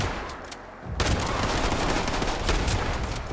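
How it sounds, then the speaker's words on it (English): A Fallout 76 shotgun fires amid a chaotic fight with super mutants, heavy blasts jumping in after a quieter moment and then a dense, continuous stretch of close gunfire and impacts. "This shotgun is not the move"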